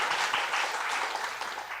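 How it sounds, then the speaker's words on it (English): Audience at a Buddhist Dharma talk applauding, a steady wash of many hands clapping throughout, moderately loud and sustained. "Let's give him a warm round of applause."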